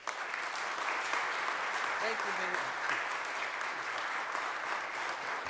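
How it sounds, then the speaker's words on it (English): Sustained, dense applause from an audience at a city council press event welcoming Mayor Jim Kenney, steady and fairly loud throughout, with a voice briefly speaking near the end. "Give him a round of applause."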